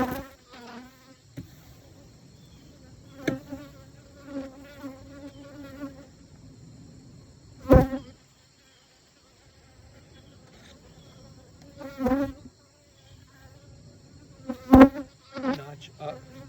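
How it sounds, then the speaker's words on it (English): Bees buzz around an open hive in a steady insect drone, with louder passes as individual bees fly close. "That gives them an exit point at the top of the hive."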